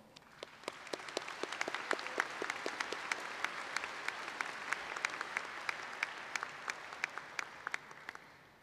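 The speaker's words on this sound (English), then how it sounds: "Please join me in applauding our Fire Knights program." An audience applauding at a high school graduation ceremony after a band program, a sustained wash of many hands clapping with sharp individual claps standing out, steady throughout and tapering at the end.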